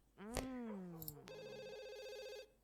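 A telephone rings in The Sims 2, an electronic bell tone that follows a short burst of game sound and plays clearly for about a second.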